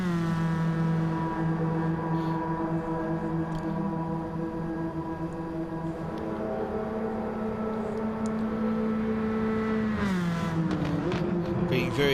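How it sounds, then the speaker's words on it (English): A Toyota MR2 race car at the Nürburgring drones steadily past the camera at high revs, its engine note holding, then dipping near the end as it pulls away, loud and continuous. "you can just hear the MR2 as it passes by the camera"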